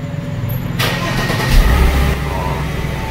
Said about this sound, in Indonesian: Oke, sekarang kita coba hidupin mesinnya, nanti kalian dengar sehalus apa suaranya, baik dari suara mesin dan suara knalpot.